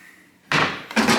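Cabinet door in a rental house under renovation, repaired and reassembled, shuts with a sharp wooden bang, then a second, softer knock follows about half a second later, close and loud, with no talk.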